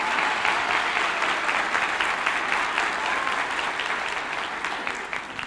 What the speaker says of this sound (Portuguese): Uma salva de palmas para os 3, gente, aqui.